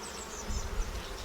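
Honey bees buzzing around an open backyard hive during an inspection, a dense, steady drone close by with a few louder passes of individual bees.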